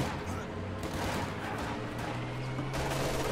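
MG42 machine guns firing in a World War II real-time strategy battle, dense overlapping bursts of rapid gunfire with distant explosions and a narrator speaking over the combat.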